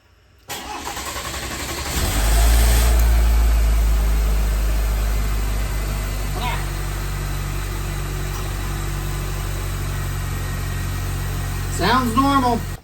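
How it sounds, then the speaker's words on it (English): Cold start of a Chevrolet Silverado 2.7L TurboMax four-cylinder with fresh SuperTech oil: a brief crank catches, flares loudly, then settles into a steady low idle, with short speech near the end. "So next thing will be a cold start on the new oil with SuperTech and the PF66 and the oil filter pre-filled."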